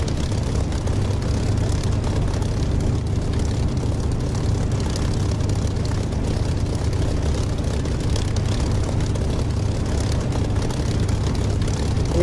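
A propeller aircraft in the DCS flight simulator game roars steadily at takeoff power, a loud continuous low engine drone that holds throughout with no voices.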